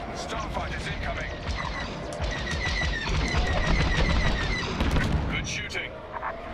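Starfighter laser fire in the Star Wars: Squadrons space combat game, a dense continuous barrage of rapid blaster shots and explosions over engine roar, with radio chatter voices mixed in throughout.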